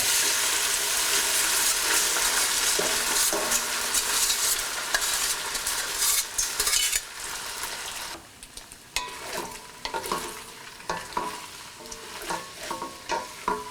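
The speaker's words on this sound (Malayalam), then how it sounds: "ഒരു സ്കില്ലറ്റിലോട്ട് 2 ടേബിൾ സ്പൂൺ നെയ്യ് ഒഴിച്ച് ചൂടാവുമ്പോൾ നമ്മൾ വേവിച്ച് വെച്ചിരിക്കുന്ന അടയിട്ട് ഇതുപോലെ 2-3 മിനിറ്റ് ഇളക്കുക" Boiled ada rice flakes frying in ghee in a skillet, a steady sizzle with stirring scrapes that thins out into intermittent spoon clatter and softer crackling.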